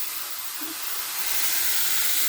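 Taro leaves dropped into a hot pan of fried fish head and chickpeas, setting off a strong close hiss of steam and sizzle that swells louder toward the end, with no talking.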